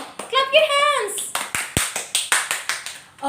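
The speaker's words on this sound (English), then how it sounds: "Clap your hands." Children in a music class clap their hands in a steady run of about ten sharp claps, following a short burst of a child's sung or spoken voice at the start.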